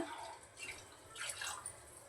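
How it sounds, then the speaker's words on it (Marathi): Hot water poured into a pot of vegetable curry, a soft, fairly faint splashing and trickling that rises and falls in two gentle surges, with no talking. "गरम पाणी करून ठेवलं आहे दीड तांब्या अंदाजाने जेवढं लागेल तेवढं टाकणार"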